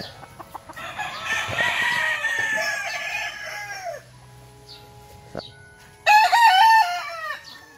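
A Kelso-line gamefowl rooster crows in a backyard, a long loud call followed after a pause by a second sharp crow, with faint clucking between.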